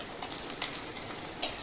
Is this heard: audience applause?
no